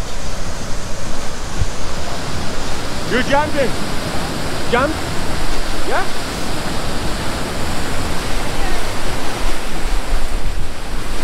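Steady roaring rush of the Grand River South East Waterfalls in Mauritius, loud and continuous throughout, with people nearby calling out short words to one another about jumping over the constant water noise.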